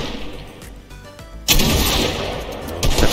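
Fortnite shotgun gunfire in game: a sharp, loud blast followed by a sustained burst of noisy echo, with another shot at the end, no talking.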